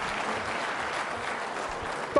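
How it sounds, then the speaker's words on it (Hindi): An audience claps for a contestant at a quiz show for trainee civil service officers, a steady crowd of hands applauding throughout, with a brief sharper sound right at the end. "तालियां जोरों से बजाइए डॉक्टर साहब के लिए"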